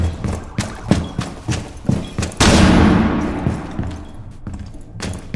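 Gunfire in a tactical shooter video game at a consulate map: a rapid series of sharp close shots, then a loud booming burst that decays into a rumbling tail before more shots resume.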